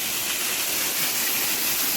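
A waterfall reached on a trek roars in a constant, broadband rush of falling water, loud and close with no break or voices.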